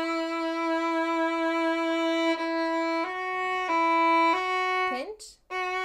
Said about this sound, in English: we're actually going to pinch the string down and try to play with real vibrato